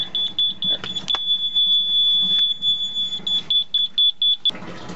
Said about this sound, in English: it makes my water alarm go off